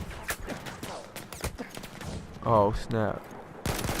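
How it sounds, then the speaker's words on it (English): Scattered gunshots ring out in quick irregular bursts, loud and close, while someone talks over them and breaks off briefly in the middle. "Who's shooting?"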